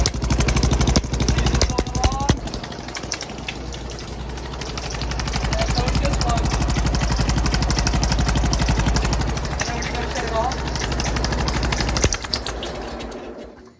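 A loud lawnmower engine fitted with a new exhaust runs close by, a rapid rhythmic chugging that holds steady throughout with slight swells in intensity.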